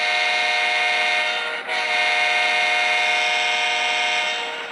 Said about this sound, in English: if you push horn, it actually changes the horn. So actually, this is the second horn.